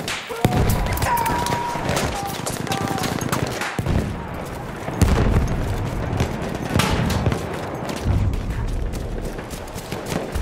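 Battlefield 1 conquest battle with a grenade blast among dense bursts of gunfire and thuds, loud and chaotic, with voices calling out over the combat.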